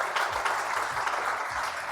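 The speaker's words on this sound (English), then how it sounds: "can we clap for her?" Moderate applause from an audience at a talk on brain retention and languages, steady clapping at middling loudness across the two seconds, with a few low thumps beneath.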